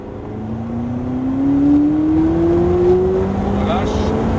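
A McLaren engine climbs steadily in pitch as it accelerates hard from inside the car, a smooth rising drone at moderate loudness with a brief shift near the end.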